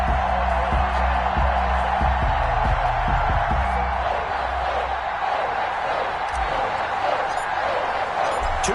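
Steady broadband roar of a stadium crowd at an NFL video game broadcast, Philadelphia Eagles versus New England Patriots, a loud continuous murmur with low rumbling undertones throughout.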